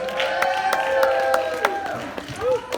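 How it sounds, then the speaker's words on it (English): Audience clapping for a marching band at a gathering, scattered claps and some cheering voices over a sustained tone, with a voice speaking through it. "So let's give them another round of applause"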